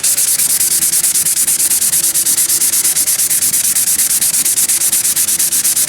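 Sandpaper scrubs over peeling leather in steady, rapid back-and-forth strokes, a close, even hissing rasp that repeats continuously without pause.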